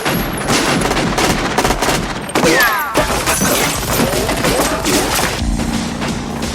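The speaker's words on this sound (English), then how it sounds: "A fierce shootout erupts." Rapid bursts of gunfire crack back and forth in a film shootout between robbers and a defending team, loud and close, with overlapping volleys, clattering impacts and a brief whooshing sweep partway through.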